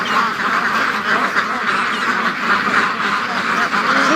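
A dense chorus of ducks and large geese quacks and honks continuously on a lake, loud and close, with overlapping calls and no pauses.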